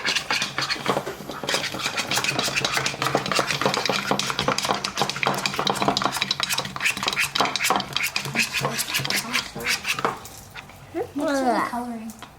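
Three-year-olds stir glue with sticks to make slime, producing busy, rapid scraping and clicking against a container for several seconds, then a voice rises at the end.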